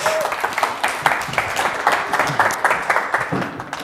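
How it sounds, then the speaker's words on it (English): An audience at a Questacon science show bursts into loud, dense applause, with many hands clapping continuously and close up for the whole stretch. "Give Dave a big round of applause."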